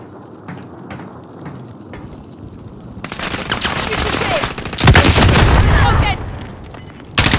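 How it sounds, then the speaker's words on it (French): Gunfire in Call of Duty Warzone: quieter scattered shots at first, then loud sustained bursts of rapid automatic fire with sharp impacts, continuing to the end. "Je me prends des balles de l'ennemi."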